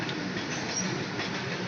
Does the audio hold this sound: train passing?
yes